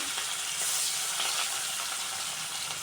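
Rohu fish marinated in salt and turmeric fries in hot mustard oil with a steady, loud, close sizzle that swells briefly and then holds even throughout.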